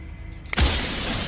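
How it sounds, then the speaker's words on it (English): Glass shattering in the video game Slay The Princess: a sudden loud crash that breaks into a bright, hissing wash of breaking glass lasting under a second, close and alone with no voices. "The glass break is so loud!"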